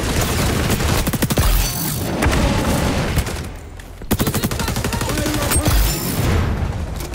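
Gunfire and explosions in the video game xDefiant: loud rapid bursts of automatic fire, with heavy booms near the start and the end and a brief lull in between.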